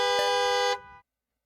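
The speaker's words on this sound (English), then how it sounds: "On the third time, you hear car horns." Car horns honk from the Fruity Maze video game: one sustained, bright, layered blare, loud and steady, cutting off abruptly after about a second, then silence.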